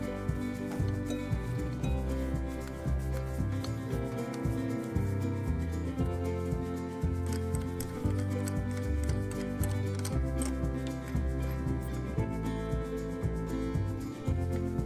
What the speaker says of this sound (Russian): и нарезаю резьбу